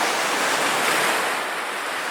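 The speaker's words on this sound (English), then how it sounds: "Let's wait and see just what this wave here does" An ocean wave washes in at Mermaid Grotto, a steady, loud wash of surf and rushing water that holds at even strength with no voices.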